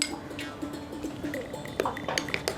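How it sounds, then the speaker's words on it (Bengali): A spoon clinks against a pot or bowl several times while black salt is added to coconut-style chutney for idli, small bright metallic taps near and fairly soft. "এবারে এতে আমি এই 1 চামচ বিট লবণ রেখেছিলাম, এটা আমি দিয়ে দেবো।"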